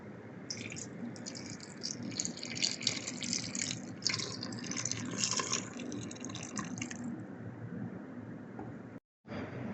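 Blue butterfly pea water poured into bread dough ingredients, a fairly quiet splashing trickle into a bowl lasting several seconds before tapering off.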